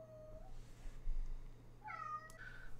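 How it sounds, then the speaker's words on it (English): A house cat meows in a home office, two or three distinct, fairly close calls with a pause between them, over a steady low electrical hum and no speech. "Sorry, I had to let my cat out of the office."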